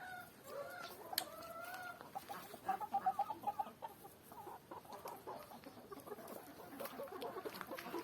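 Chickens in a rural Ukrainian village coop cluck and murmur continuously at a distance, with an occasional rooster-like crow rising above the faint, steady farmyard background.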